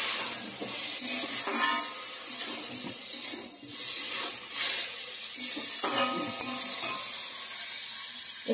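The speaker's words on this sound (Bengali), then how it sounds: "সবজিটা ভালো করে ভাজা ভাজা হয়ে গেছে" Vegetables fry in a hot pan with a loud, steady sizzle while a spoon scrapes and stirs them in repeated bursts, close up and with no talking.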